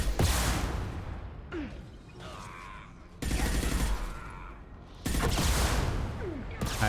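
Missiles and weapons fire in the sci-fi shooter Mass Effect 2, with loud broadband bursts arriving in three separated waves, whooshing launches and explosive blasts between quieter stretches of combat ambience.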